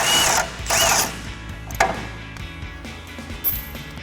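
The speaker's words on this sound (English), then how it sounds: "I'm going to start with our single bolt here in the back and take an 18mm socket to remove that" An 18mm socket wrench working a tow hook bolt loose on the rear of a 2019-2021 Silverado 1500 front bumper, giving a few loud metallic ratcheting bursts followed by softer clicks and scrapes.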